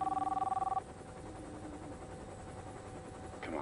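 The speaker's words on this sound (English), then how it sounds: "Pick up the phone." A telephone rings with a fast electronic trill for under a second, then stops, leaving a steady droning hum in the room and a brief rustle at the end.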